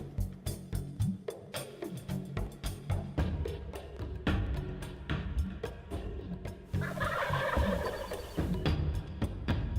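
Wild turkey toms in a group of mature birds gobble in repeated rattling bursts, some close and loud, others overlapping in quick succession, with a brief steadier stretch of outdoor noise between calls.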